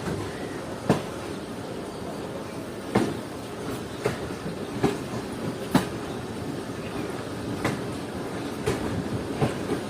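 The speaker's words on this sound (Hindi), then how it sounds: "सात बज के 35 मिनट पर ट्रेन डिपार्ट कर रही है" The Karachi Express pulls out of Bahawalpur railway station with a steady rumbling rolling sound. Rhythmic clacks of the wheels over rail joints repeat every second or so at moderate loudness.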